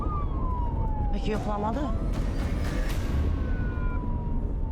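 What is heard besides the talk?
police car siren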